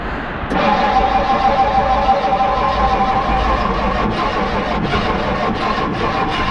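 An old project car engine being cranked and catching, a sudden start followed by a continuous loud, rough running drone with slight fluctuations and no talk.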